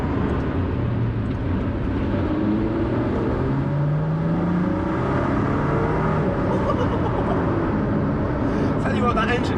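A 2019 Ford GT's engine rising in pitch as it accelerates, a steady close drone with rolling road noise from inside the car, and a voice talking over it.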